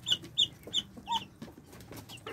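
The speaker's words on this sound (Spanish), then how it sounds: "Vean nada más qué chulada de pavitos tengo." Young turkeys peep in short, high chirps, several calls spaced irregularly over soft background clucking and rustling.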